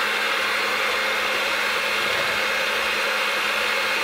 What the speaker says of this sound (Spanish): Lo voy a batir hasta que esté perfectamente incorporado.